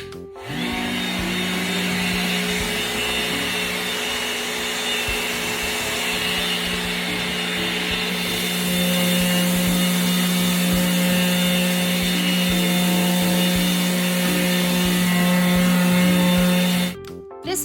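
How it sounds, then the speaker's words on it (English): A Festool RTS 400 sander running with its dust extractor on furniture, a loud continuous whining hum with a steady drone, alone and unbroken from start to stop. "This Festool sander is called the RTS 400."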